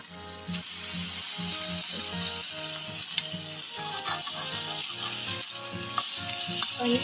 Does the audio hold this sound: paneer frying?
yes